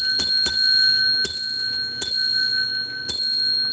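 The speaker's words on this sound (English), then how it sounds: "after I ring the bell" A bright bell rings in sharp, separate strikes, about five dings spaced unevenly, each leaving a clear ringing tone that lingers between hits.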